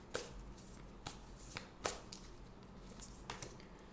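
Oracle cards shuffled by hand during a tarot reading, giving a few short, crisp riffling bursts spaced about a second apart against a quiet room.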